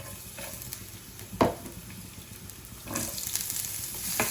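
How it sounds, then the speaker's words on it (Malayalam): Garlic and chopped onion sautéing in about two teaspoons of oil for a broccoli stir fry, a soft, quiet sizzle with a sharp clack near the start and a louder burst of frying toward the end. "ഇതിലേക്ക് ഈ വെളുത്തുള്ളിയും സവാള അരിഞ്ഞതും ചേർത്ത് കൊടുക്കാം."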